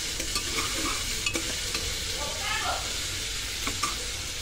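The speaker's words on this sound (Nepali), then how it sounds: "अनि टमाटर, यो सबै कुरालाई चाहिँ एकछिन फ्राई गर्नुहोस्।" Onion, ginger-garlic paste and tomato fry for dal tadka while being stirred, with a loud, continuous close-up sizzle broken by spoon scrapes and small clicks against the pan.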